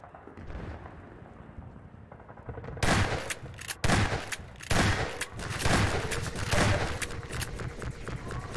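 Gunfire in the shooter Half-Life 2 comes as a dull background rumble, then erupts into loud sharp bursts of shots and blasts in close succession, with a little talk underneath.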